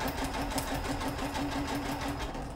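A sewing machine fitted with a beading foot stitches steadily, its rapid rhythmic needle clatter running close and continuous, with no talk over it.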